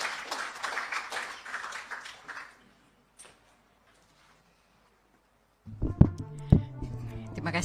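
At a formal Malay ceremony, an audience claps to welcome Puan Zahra, a dense round of applause that fades out after about two and a half seconds, followed by near silence and then a burst of louder thumping and hum.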